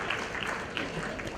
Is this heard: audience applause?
yes